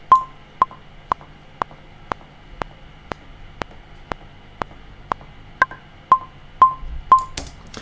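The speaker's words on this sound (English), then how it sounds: "If you want to change the sound of the metronome or the kind of tone or volume" A software metronome in a music production program ticks at a steady pulse with sharp, short clicks, some carrying a pitched ping on accented beats, over a faint hiss; quiet, no talking.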